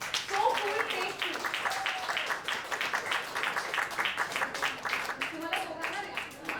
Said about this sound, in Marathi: एकदा जोरदार टाळ्या